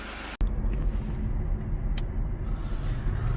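A Mercedes W212 drives along with a steady low engine and road rumble heard from inside the cabin, opening with a brief click and later a faint tick over the constant drone.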